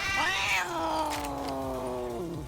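A Catinator cat weapon in Black Ops 3 custom zombies gives one long, loud meow that bends upward then slowly trails off, steady and close.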